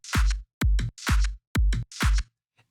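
A layered clap from an Ableton drum rack, built from pitch-shifted samples, alternates with a deep, booming kick drum in a steady loop. Five loud, close hits are heard with no voices.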